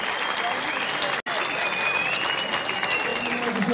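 Sustained audience applause at an open-air municipal concert in Çorlu, welcoming the mayor on stage, dense and steady throughout with a single abrupt dropout of a split second near the middle; faint voices mix into the crowd noise.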